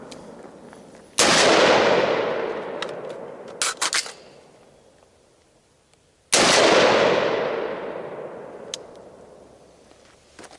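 Two single sharp, loud gunshots from a short-barreled 7.5-inch AR-15 rifle on an outdoor shooting course, each followed by a long rolling echo, with faint clicks between them.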